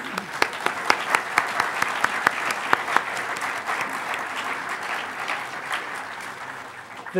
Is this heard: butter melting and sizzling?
no